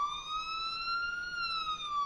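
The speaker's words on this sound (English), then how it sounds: "The sirens are nice." A vehicle siren in a video game, a clear electronic wail sweeping slowly up and down, loud and steady throughout the short stretch.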